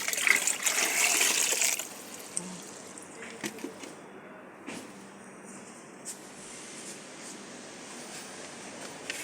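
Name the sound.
water flowing from a tap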